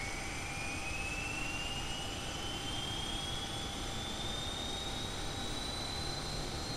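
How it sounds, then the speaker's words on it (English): A Boeing 737 jet engine in the X-Plane 11 flight simulator spools up steadily on start, a rising whine climbing in pitch over a constant roaring rumble, with no voices. "Engine's coming to life"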